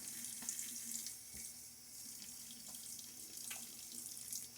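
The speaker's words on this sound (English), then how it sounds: "now really going to get my face wet in preparation for the pass" A bathroom tap runs steadily into a sink while water is splashed onto a face before a wet shave, a soft continuous hiss with faint splashes throughout.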